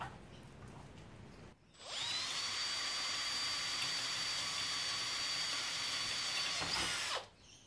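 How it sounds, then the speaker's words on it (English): A power drill whines steadily for about five seconds as it bores slowly through metal on a scroll saw table build, a high grinding pitch, close and loud, after quiet handling noise. "I'm always really nervous drilling through metal,"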